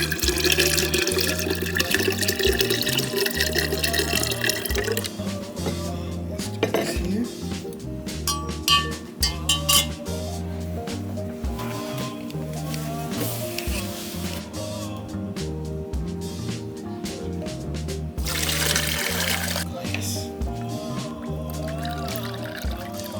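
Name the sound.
water pouring while making basil tea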